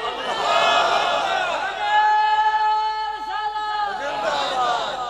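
A crowd at a Seerat un Nabi religious gathering in Rooda, Khushab, loudly chanting a religious slogan in unison, sustained drawn-out voices rising and falling in two long waves.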